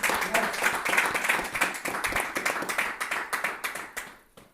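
Church congregation applauding loudly, a dense, sustained wash of clapping that thins out into scattered claps and fades at the end.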